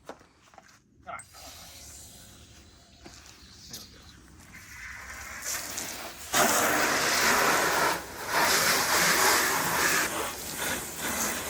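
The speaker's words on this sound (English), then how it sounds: "So let's hose this thing down." Water hose spraying down the body of a Toyota MR2 widebody car, a hissing rush that builds up and turns loud and steady, with people talking nearby.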